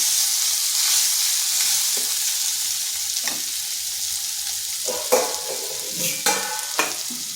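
Pointed gourd (potol) frying in a pan, with a loud, steady sizzle and a few sharp scraping stirs of a spatula near the end. No one speaks.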